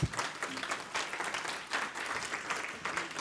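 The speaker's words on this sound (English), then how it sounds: "Give this group a round of applause" An audience at a town hall meeting applauds the event organizers, a steady wash of clapping hands at moderate distance, fairly soft and even throughout.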